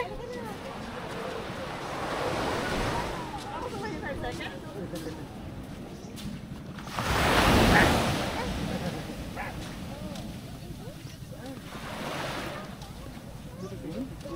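Ocean waves washing onto the beach at Port Barton, Palawan, with surges building and a louder crash near the middle, plus wind buffeting the microphone.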